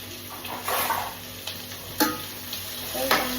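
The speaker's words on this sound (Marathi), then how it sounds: "एवढा कांदा मी फ्रायसाठी ठेवला." Sliced onions sizzling in a frying pan, a steady low sizzle broken by a few stirring scrapes and clinks, close and fairly quiet.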